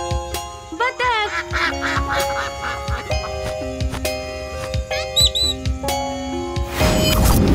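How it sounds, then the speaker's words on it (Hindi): A cartoon duck quacks in quick, nasal bursts over playful sound effects and bright music in a Chhota Bheem kids' animation, the quacks loud and close. "बतख"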